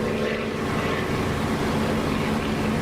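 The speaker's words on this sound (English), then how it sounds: "I couldn't resist the double flyby" Aircraft in the DCS flight simulator make a double flyby, a loud, steady propeller and engine roar that stays close and constant throughout with no talk.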